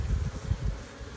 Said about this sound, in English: both boxes full of bees